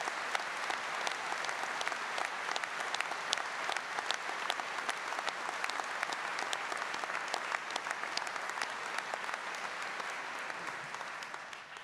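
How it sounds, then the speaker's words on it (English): Sustained audience applause fills a university graduation ceremony for an art, film and media school, a long, steady stream of crisp claps that fades slightly at the very end. "we might offer a round of applause"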